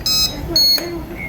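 Electronic alarm from a Fisher humidifier, tied to a temperature sensor fault, gives two short high beeps in quick succession, loud and close, with no talk over them.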